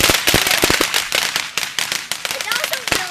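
Firecrackers crackle and pop in rapid, irregular bursts during a live fireworks show, close and loud.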